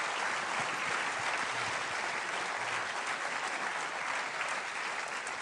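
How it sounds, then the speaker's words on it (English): Sustained audience applause for panelists at an engineering conference closing session, a steady dense wash of clapping from a large room with no voices over it. "we gave them a round of applause after each statement"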